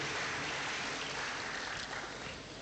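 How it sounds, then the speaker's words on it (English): Audience applause for the Vice-Chancellor at a distinguished faculty lecture at the University of Benin, a steady dense wash of clapping that holds throughout and fades slightly at the end. "A round of applause for the Vice-Chancellor again."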